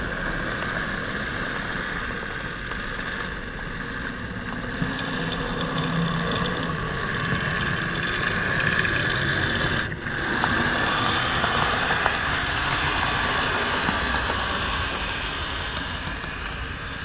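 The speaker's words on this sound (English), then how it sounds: "Engineer Gary and conductor Allie gotten in the engines and got the caboose hooked up, air hooked up, ready to pull them out" Railroad locomotive engines idle in a yard before pulling out with a caboose attached, a steady, loud mechanical drone that continues throughout with a brief clank partway through.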